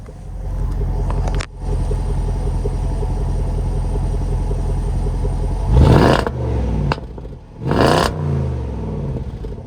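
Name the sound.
Range Rover Sport 5.0 V8 engine revving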